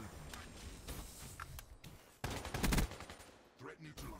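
AK74-U gunfire in a first-person shooter video game. Faint scattered single shots are followed by a louder rapid burst in the middle, then a few sparse trailing shots, heard fairly far off and low in level.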